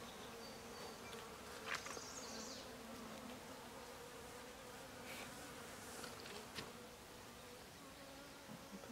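Honey bees buzz steadily all around an open hive, a constant droning hum with occasional individual bees passing close by, no voices.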